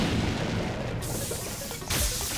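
A bomb goes off in Link's Awakening with a dense, noisy blast and then a second burst a moment later, loud and continuous over the game's background noise.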